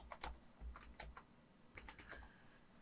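An IP address typed on a computer keyboard, a run of quick, quiet key clicks in uneven bursts, close and soft with no talking.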